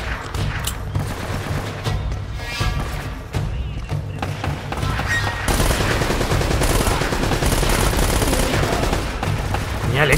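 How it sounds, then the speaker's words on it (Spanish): Rapid machine gun bursts in an Uncharted video game firefight, dense overlapping shots that grow louder and more continuous halfway through, with occasional talk underneath. "El de la metralleta. ¿Veis los disparos?"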